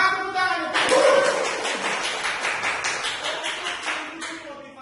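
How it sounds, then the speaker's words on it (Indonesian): A group claps together at a teachers' positive-culture sharing forum: a brisk, dense burst of many hands that swells early, then thins and fades over several seconds, with faint voices underneath. "Nah, semangat tepuk tangan."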